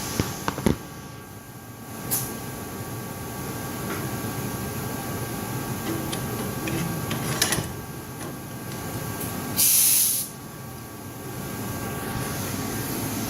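The dump valve of a hydraulic lawnmower and motorcycle lift lets go in a short, sharp hiss of about a second, set against a steady mechanical hum with a few scattered clicks.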